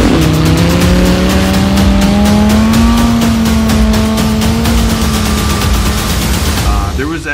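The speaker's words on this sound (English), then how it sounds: "Rolling burnout through the snow." An Audi R8 doing a rolling burnout through snow, its engine holding a loud, steady high-revving drone with wheelspin noise, fading slightly at the end.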